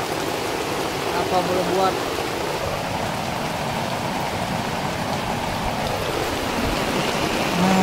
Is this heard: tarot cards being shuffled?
no